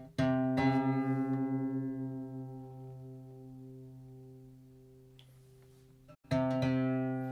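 A plucked guitar string rings out and slowly decays as its pitch is lowered, then is plucked again near the end.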